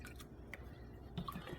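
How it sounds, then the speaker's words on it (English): Beef stock is poured into a marinade of Worcestershire and soy sauce, giving a short, soft liquid trickle with a few drips, close and quiet. "I'm just going to pour some beef stock in here."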